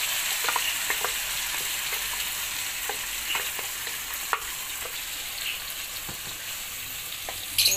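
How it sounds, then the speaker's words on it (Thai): Chilies hitting hot oil in a wok for a spicy Thai frog stir-fry, a constant loud crackling sizzle with scattered pops and a few brief stirring clinks. "น้ำมันร้อนแล้วก็เอาพริกเข้าใส่เลยนะเจ้า"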